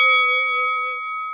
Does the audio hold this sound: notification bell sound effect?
yes